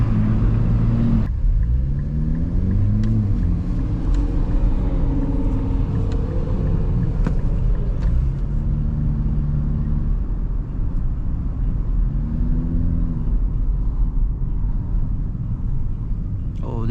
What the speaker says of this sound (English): I love how it rev matches for me. That shit sounds good.